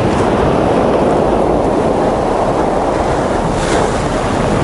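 Sea waves roll and break on Chkalovsky beach in Adler, Sochi, in a loud, continuous rushing wash heard close by, heavily mixed with wind buffeting the microphone.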